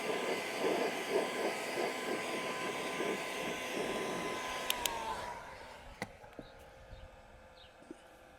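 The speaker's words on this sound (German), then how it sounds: "Und deswegen werde ich jetzt hier einmal mit dem Föhn rübergehen." A hot air blower heating a cracked plastic bumper on a Tesla Model, roaring steadily and close for about five seconds before switching off, leaving a quieter room with a few sharp clicks and taps.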